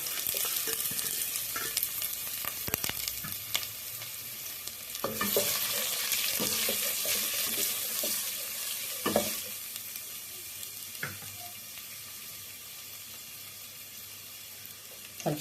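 Fennel seeds and onion fry in a pan for a Kumbakonam kadappa, with a steady close sizzle broken by the sharp scrapes and knocks of a spoon stirring, louder in the middle and easing toward the end.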